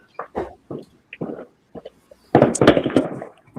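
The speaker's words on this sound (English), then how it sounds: "I can hear everybody's fireworks going off in the background" Distant Fourth of July fireworks pop and crackle in the background, scattered bursts building to a denser rumbling volley near the end.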